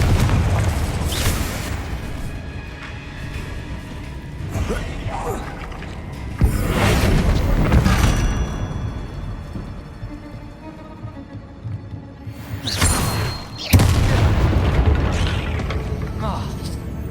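Confringo fire spell blasts in the game Hogwarts Legacy, several booming explosions with whooshing bursts amid ongoing combat effects, loud and close, with a voice casting spells.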